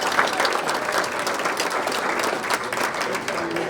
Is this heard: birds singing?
no